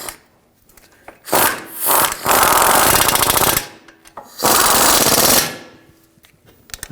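Bolts being tightened with a power impact tool on the front wheel bearing and hub assembly of a 2006-2009 Audi S4, two loud sustained rattling bursts of about two seconds each, with quiet pauses between.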